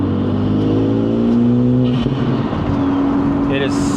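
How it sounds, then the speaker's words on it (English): Honda Civic Type R with AWE and PLM intake box, accelerating: a loud, rising engine and intake roar that climbs in pitch, then shifts and continues, with speech in the background. "give you an intake sound clip, because this intake box is a heck of a lot louder"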